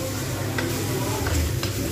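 Spice masala fries in oil for Bengali moong dal made with rohu fish head, a spoon stirring through the steady sizzle with a few scraping touches against the pan, close and loud.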